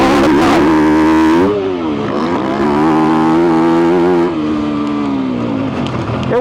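Yamaha YZ250F dirt bike engine revving loud and close while riding, its pitch climbing and dropping through gear changes with a steady harmonic whine throughout.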